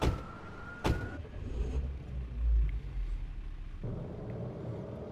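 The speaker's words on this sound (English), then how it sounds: "Sounds like a nice car." A black Cadillac car driving, a low steady engine rumble and road noise with a brief louder swell midway and a sharp transient near the start, no talking.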